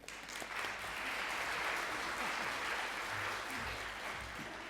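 An audience claps in welcome for a speaker at a science talk, steady and sustained applause from a full room, fairly loud and continuous, with no voices over it.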